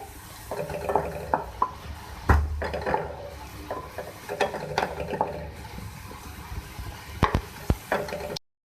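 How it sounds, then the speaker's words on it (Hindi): Food frying in a pan while making chicken kaleji (liver): a low sizzle runs beneath irregular stirring scrapes and clinks of utensil against pan, close and moderately quiet, with no talking. "इसको मैं कर रही हूँ फ्राई"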